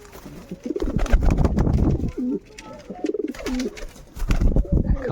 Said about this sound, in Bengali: এই হচ্ছে ঘুঘু পাখি